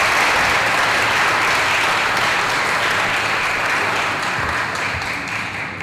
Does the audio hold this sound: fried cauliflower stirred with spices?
no